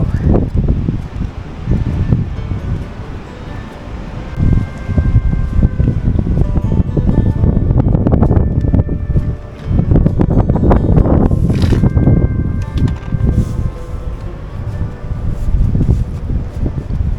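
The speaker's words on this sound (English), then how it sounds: "It's quite windy, but we are confident." Strong wind buffets the microphone in steady gusts, a loud low roar throughout with brief lulls, heard outdoors in an open, exposed clifftop spot at the Bunda Cliffs above the Great Australian Bight.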